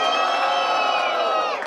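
A crowd at a freestyle rap battle cheers and shouts loudly in one sustained, dense burst that fades slightly at the end.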